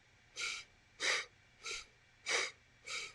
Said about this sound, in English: And we inhale left, exhale right.